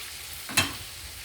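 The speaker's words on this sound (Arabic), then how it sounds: "هنحط الرز ده كده دلوقتي بالميه" Rice is poured into water in a cooking pot, giving one short splashy burst around the middle of an otherwise quiet stretch, with a faint background hum.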